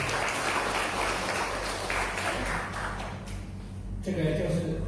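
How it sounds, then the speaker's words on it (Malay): Audience at a Buddhist ceremony at a temple in Semarang, Indonesia, clapping in a broad, moderately loud patter that thins out toward the end as a voice and tones come in. "Ya, tepuk tangan buat Anda semua."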